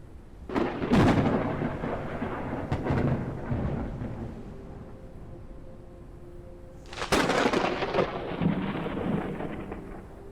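Rolling thunder from a storm in the sky-exploration survival game Forever Skies: a heavy crack near the start, a long low rumble, then a second loud clap at about seven seconds, all over a steady rain-like wash with no talk.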